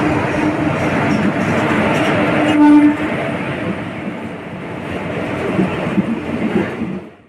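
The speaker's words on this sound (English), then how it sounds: "Here the Coromandel Express has arrived the Balasore railway station." Coromandel Express passenger train rolling into Balasore railway station, a loud continuous rumble of wheels and carriages with a brief horn blast near the middle, fading slightly as it slows.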